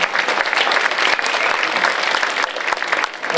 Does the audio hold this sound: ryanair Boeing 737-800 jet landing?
no